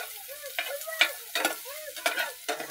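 Garlic, ginger and onion sizzle in a pan while being sautéed, with repeated scraping strokes of a spoon stirring in an uneven rhythm, close and moderately loud.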